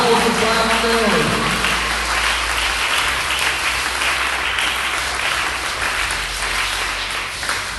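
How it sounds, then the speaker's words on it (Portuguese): Church congregation applauding during a worship service, a dense continuous wash of many hands clapping alongside music in the background, with a voice speaking over it at the start. "Aplausos para Deus."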